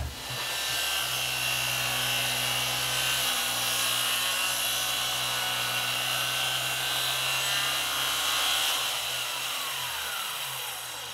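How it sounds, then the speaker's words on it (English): Circular saw cutting reclaimed wood for a workbench vise, a loud, steady high-pitched whine with motor hum beneath, running throughout and easing off at the end. "So yeah, I'm just gonna cut that now with the circular saw."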